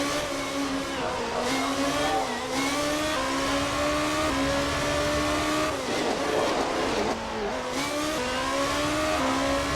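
Racing cars in a 2015 GP2 qualifying session in Italy, with loud engines revving and shifting pitch steadily as several cars pass in succession, one car roaring close by around midway.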